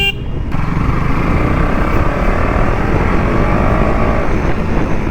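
A motorcycle engine drones steadily and close while the bike is ridden, a constant loud roar with wind rushing over it.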